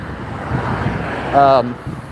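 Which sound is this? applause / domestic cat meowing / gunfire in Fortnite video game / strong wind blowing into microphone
strong wind blowing into microphone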